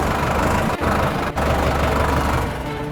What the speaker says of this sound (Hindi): अरे अजय ट्रैक्टर रोक।